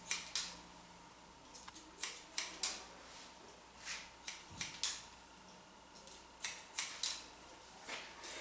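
Scissors trimming a teenage boy's short hair, a series of crisp, quiet snips in small clusters, close by, with soft pauses between cuts and no talking.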